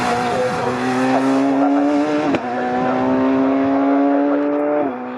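Racing cars on the Snetterton circuit, including a Group C car and a Citroen Saxo, roar past in a loud, continuous engine drone with a steady pitch and a brief shift in tone midway.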